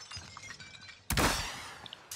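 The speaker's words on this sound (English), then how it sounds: "I heard him break glass" Glass shattering in a Warzone trios multiplayer match: one sudden loud burst of breaking glass halfway through, followed by a few faint tinkling fragments over low game ambience.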